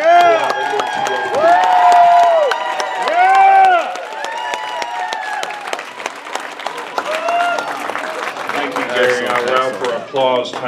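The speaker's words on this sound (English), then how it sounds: "We have applause time for Gary." Applause and cheering from the crowd at a state Republican committee meeting, clapping running throughout beneath loud, melodic voices and shouts, swelling near the start and again toward the end.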